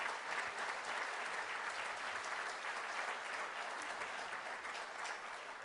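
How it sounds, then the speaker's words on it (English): Audience applause for the Camp Enterprise crew at a mayor's meeting, a dense, steady wash of many hands clapping that holds for the whole stretch without talk. "Let's give them a round of applause for the phenomenal difference they make in the lives of youth."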